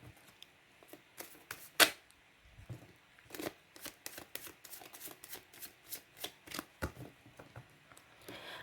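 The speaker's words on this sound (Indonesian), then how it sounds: "sambil saya baca doa dan saya kocok kartunya" A deck of tarot cards being shuffled by hand, with a steady run of soft riffling slaps and flutters up close, alone and without talk.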